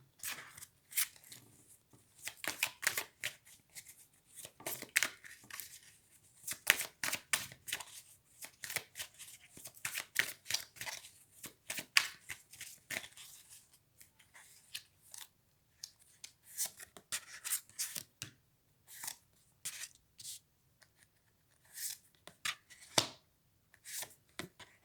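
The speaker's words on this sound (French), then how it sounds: "je vous propose un petit tirage sentimental" Tarot cards being shuffled for a reading, a long run of soft, crisp riffling and slapping flicks in irregular bursts, quiet and close, with no talking.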